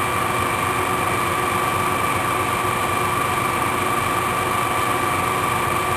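A drill fitted with a larger bit, about 5/16 inch, enlarges a hole so a half-inch shaft can pass through, during a homemade generator build. A steady, fairly loud motor whine and hum runs unbroken for the whole stretch, with no voices.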